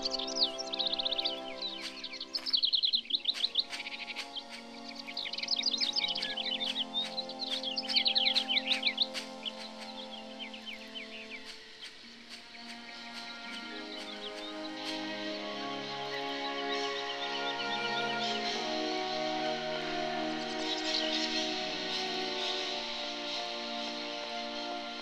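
Birds chirp near a ladder in the video game Syberia: bright, twittering calls over a steady bed of game music, busiest in the first half and thinning out later.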